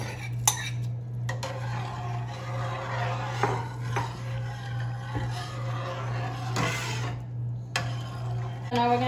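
Washed rice being stirred in a pot for arroz con leche, with scraping and clinking of a utensil against the pot at irregular intervals over a steady low hum, no voice.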